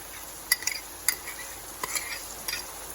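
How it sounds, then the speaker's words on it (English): A spoon scrapes and clinks against a pan as sauce is stirred into sizzling vegetables for Thai basil fried rice, with four or five sharp metallic knocks over a soft, steady fry. "we're gonna add the sauce directly to the pan"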